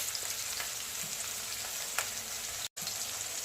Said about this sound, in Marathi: परतून घ्यायचं मस्त छान पैकी।